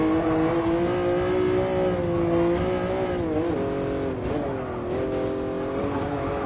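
A Jaguar XJ13 race car in GT Sport on the Nordschleife, its engine droning steadily with rising and falling revs as gears shift, loud and continuous with no talk.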